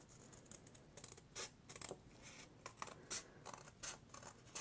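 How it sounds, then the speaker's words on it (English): Scissors cutting through paper card for a Christmas Cricut pop-up layout, a run of quiet close snips and crisp rustling strokes in an uneven rhythm, with no talking. "we're going to go over from the left edge and cut up 2 inches"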